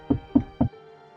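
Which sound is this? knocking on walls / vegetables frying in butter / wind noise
knocking on walls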